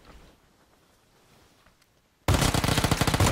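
Rapid automatic gunfire from dual Uzis in a video game erupts suddenly after a quiet stretch, a loud, dense burst of fast shots continuing to the end.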